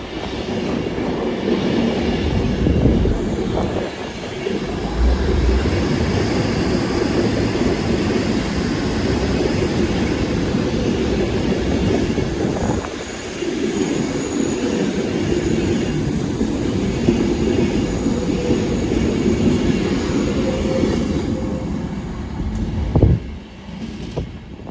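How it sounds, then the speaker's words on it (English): A London Pendolino train bound for London Euston rushes past close by, a loud sustained roar of wheels and rail noise with faint clicking, easing slightly before a brief sharp clatter near the end. "Train now zooming past is a London Penlino going to London Euston"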